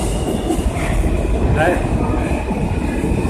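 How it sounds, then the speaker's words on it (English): Underground subway train rumbling steadily through the station, loud and continuous with a faint wheel squeal, while someone talks briefly over it. "Down here in the subway, right?"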